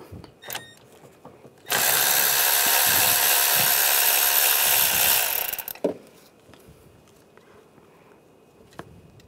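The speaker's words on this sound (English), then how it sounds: "Use a 10mm socket. Take this bolt out." A 10mm socket on a power tool works a bolt off a 2010-2016 Cadillac SRX engine during VVT solenoid replacement, a loud continuous whir of about four seconds preceded and followed by faint clicks and handling knocks.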